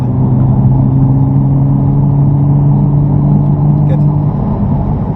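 Nissan GT-R engine pulling under steady throttle on a race track, a constant loud droning hum heard from inside the car, with a brief spoken word from an instructor over it.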